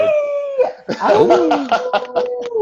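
A person's voice imitates a werewolf with a long, rising-and-falling howl, followed by a ragged burst of more howls and yelps at close range.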